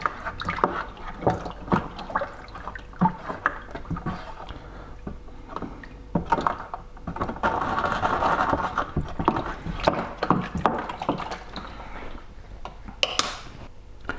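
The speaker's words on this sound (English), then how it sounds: "So just give it a good stir till every little bit of it has gone." Sticky homemade elderflower cordial syrup is stirred in a pot, with steady scraping, clinking and sloshing that runs continuously and close up, with no talk.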